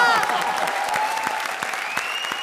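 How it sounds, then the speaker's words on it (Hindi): Audience applause on the Comedy Circus television show, crisp rapid hand claps forming a loud, close burst that holds steady, with faint musical tones beneath. "जोरदार तालियां एक बार फिर चैलेंजर्स वीआईपी और सूरज के लिए"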